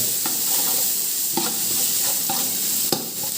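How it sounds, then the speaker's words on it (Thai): Stir-frying in a pan while cooking Thai braised eggs with pork belly and tofu: a continuous sizzle broken by a few sharp scrapes and clinks of the spatula, fairly loud and close, with no talking. "ผัดเลย"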